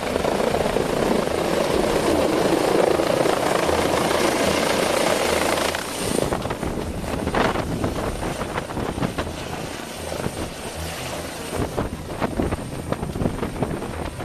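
Rescue helicopter hovering over a snow-covered mountain slope to lift out an injured person stranded in the valley, a loud steady rotor roar with wind buffeting the microphone, easing slightly after a few seconds but continuing throughout.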